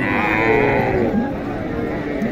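A Sahiwal cow lows at a busy livestock market in Dhamoirhat, Naogaon, giving a drawn-out, fairly close moo over steady crowd murmur that lasts the whole stretch.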